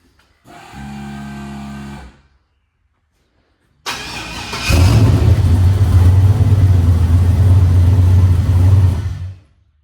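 A worn car with a relay fault, being tested in Mexico, cranks briefly and stops. After a pause the engine catches and settles into a loud, sustained high rev before cutting off.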